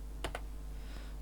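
Computer keyboard in use while entering a subnet mask in Cisco Packet Tracer, two quick close keystrokes followed by a fainter tap, alone against a low hum.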